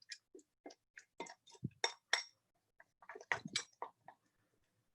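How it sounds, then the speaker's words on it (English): A polymer mixture stirred in a container gives a string of separate clinks and scrapes at an uneven rhythm, close by and quiet with silence between strokes. "Stir it up."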